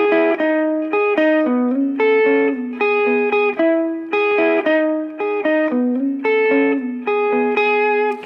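An electric guitar plays a song's riff alone, a loud, steady sequence of sliding, slightly overdriven notes repeating in a bouncy pattern.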